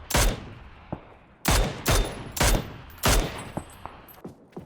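Several sharp bursts of gunfire ring out in the PUBG video game, loud clustered shots with short gaps between them and a few fainter single cracks.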